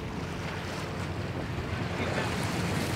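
Wind and waves wash around a car ferry on the ocean, a steady broadband rush with low rumble heard from inside a car aboard the boat, no talk.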